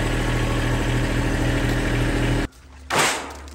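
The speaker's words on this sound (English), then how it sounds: "For reference, the tractor is a Kubota LX 2610. It's got a 25 horsepower motor." A Kubota LX2610 compact tractor with a 25 horsepower engine idles steadily and close by for about two and a half seconds, then cuts out abruptly. A brief clatter follows.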